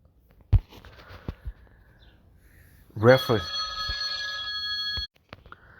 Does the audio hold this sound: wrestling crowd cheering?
no